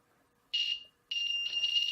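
A quadcopter buzzer sounds when plugged in, giving two shrill, piercing electronic tones: a short burst, a brief pause, then a longer continuous beep, close and loud against near silence.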